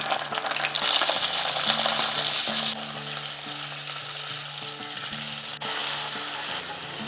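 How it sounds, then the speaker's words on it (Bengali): Ginger paste fries with a salt addition in a hot pan, giving a loud steady sizzle with stirring scrapes and a few sharp clinks, no voices over it. "আদা বাটাটাকে 30 সেকেন্ডের মতন ভাজা ভাজা করে নিয়েছি।"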